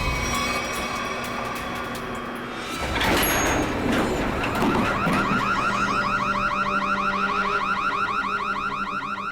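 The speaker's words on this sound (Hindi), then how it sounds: "ये अलार्म कैसा? लगता है लिफ्ट अटक गई है" A stuck lift's steady, loud electronic alarm warbles continuously in a repeating pattern over mechanical rumble, with no talking.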